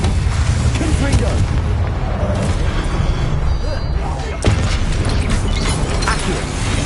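In the video game Hogwarts Legacy, the Confringo explosion spell sets off booming blasts and bursts over continuous loud game noise, with a voice present.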